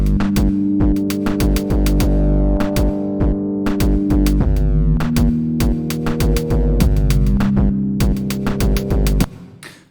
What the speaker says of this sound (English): I've got this pattern loaded in here that's already got some drums on tracks 2 and 4, and a sort of choral pad on track 1